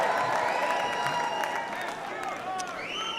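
A convention crowd at the 2024 Republican National Convention in Milwaukee cheers and applauds continuously, with whoops and whistles rising above the roar, which is fairly close and loud.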